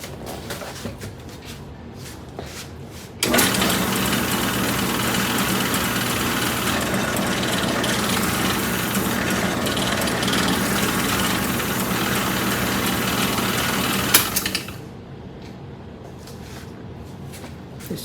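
The motor of a restored vintage Craftsman drill press runs with a steady, loud hum and whine for about eleven seconds, then switches off and winds down into quieter background noise.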